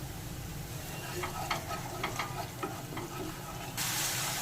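Chilli-powder masala for a pomfret fish curry fries and sizzles in oil in a pan while a spatula stirs it in soft scraping strokes, close and steady, with no talking.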